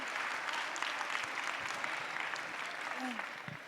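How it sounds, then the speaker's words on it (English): Steady audience applause rolls through an awards ceremony hall for nearly four seconds, a broad, even patter of many hands with a brief voice cutting in near the end. "Can we give number 361 a quick round of applause?"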